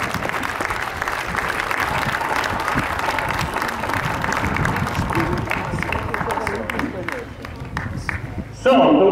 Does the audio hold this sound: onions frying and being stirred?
no